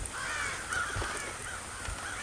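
Several crows caw repeatedly in rough, overlapping calls over a steady hiss of background ambience, moderately loud, in the video game Thief.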